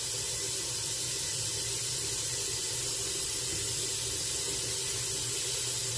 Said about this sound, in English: I'm going to cool it off with cold water immediately.